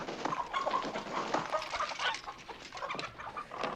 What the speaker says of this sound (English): All right, now we got the monster chasing some chickens around.